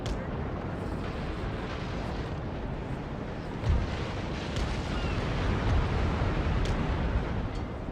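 Naval cannon fire in a Napoleon: Total War sea battle forms a dense, continuous rumble of distant booms, with a few heavier thumps rising out of the roar.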